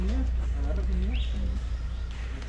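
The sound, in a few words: bird calling at eco park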